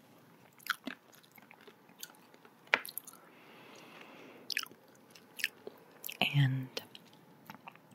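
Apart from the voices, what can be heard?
crunchy protein snack being chewed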